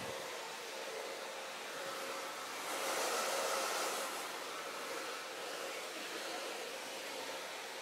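A hair dryer fitted with a diffuser runs steadily while drying hair, a loud, even broadband whoosh that swells briefly in the middle, with no talking.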